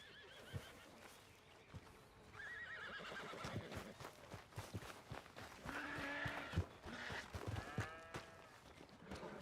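A horse whinnies and neighs in the Western video game Red Dead Redemption 2, with hooves clip-clopping along beneath it. The sound is moderately close, set against a busy game soundscape.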